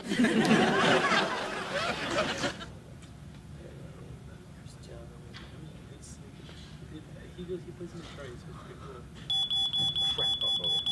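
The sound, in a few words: smoke alarm beeping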